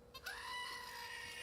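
One long, wavering goat bleat rises out of a quiet background and sustains to the end, sounding somewhat echoey.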